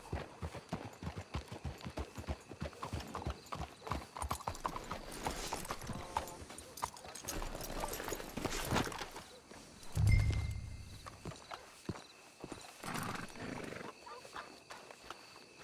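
Steady clip-clop of horse hooves walking in Red Dead Redemption 2, with a brief whinny partway through and faint ambient background, fairly close and moderately loud.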